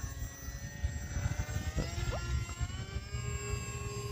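A buzzing propeller-driven Hobbyzone Aeroscout S 1.1 m radio-controlled model airplane drones overhead, its pitch shifting slightly as it flies, with some wind noise underneath.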